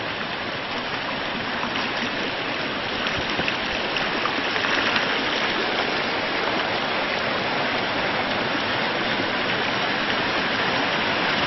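Water pours continuously down an indoor waterfall inside an ice palace, a dense, even rushing wash with no pauses and no voices.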